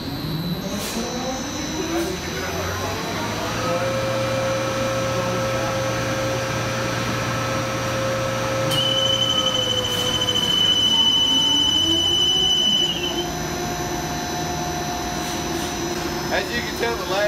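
Travaini liquid ring vacuum pump system running with a steady mechanical drone and hum, while a thin high alarm tone sounds for several seconds partway through over the constant machinery noise.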